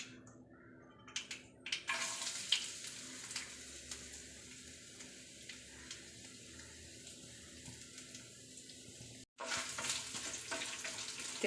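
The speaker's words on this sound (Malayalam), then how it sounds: "ഇനി നമുക്ക് എണ്ണയിലോട്ട് തേങ്ങാക്കൊത്ത് ചേർത്ത് കൊടുക്കാം." Coconut pieces hit hot oil with already-popped mustard seeds for a chickpea roast, bursting into a loud, steady sizzle and crackle that continues after a brief break near the end.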